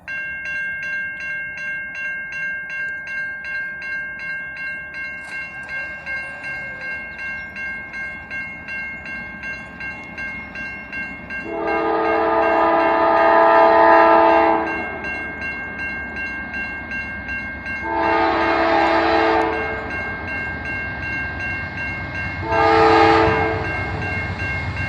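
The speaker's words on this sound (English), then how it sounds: "Oh, it's a whiskey train, yes!" A freight train rumbles past at a road crossing, its horn sounding three times: a long blast followed by two shorter ones over steady rolling wheel noise.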